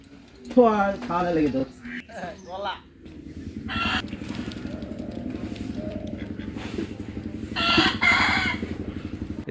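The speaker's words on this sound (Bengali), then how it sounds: "অরুণ ও তার বউ গরু বাছুর ও হাঁস মুরগির যত্ন নিতে ব্যস্ত" On a winter morning in a rural village, a rooster crows loudly and nearby chickens cluck, then a steady low drone carries on underneath.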